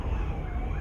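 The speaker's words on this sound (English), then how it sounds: "There are sirens." A wailing emergency siren holds a steady, moderately loud tone for under a second at a distance, with faint traffic rumble beneath it.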